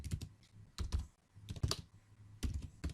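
Keys on a computer keyboard clatter in uneven bursts as code is typed, close and moderately quiet, with short pauses between clusters of keystrokes.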